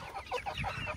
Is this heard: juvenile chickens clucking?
yes